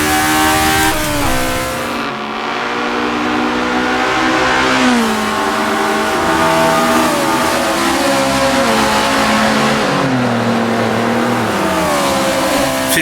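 A 1960s Japanese sports car races around Suzuka in Assetto Corsa, its engine loud and close as it revs up, shifts down and climbs again through changing gears, with no voices.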